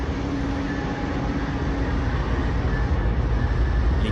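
Steady low rumble of an Amtrak locomotive, number 42, moving off along the track, a continuous mid-distance drone with a faint tonal hum and no voices.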